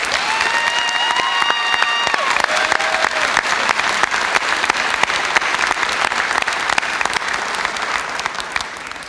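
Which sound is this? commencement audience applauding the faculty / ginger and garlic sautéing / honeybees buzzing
commencement audience applauding the faculty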